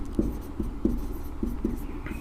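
Chalk or marker taps and scratches across a board during a lesson on resistors, heard as five or six short, close strokes in an irregular rhythm over low room noise.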